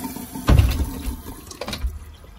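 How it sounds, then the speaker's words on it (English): A valve being installed on a GE washer is opened and water rushes out, first a sudden close gush, then a weaker, uneven flow with a second surge. "So this will run the water out."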